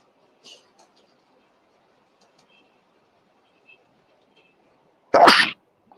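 A single loud sneeze breaks a near-silent room indoors, alone and close to the microphone, after a few faint scattered sounds.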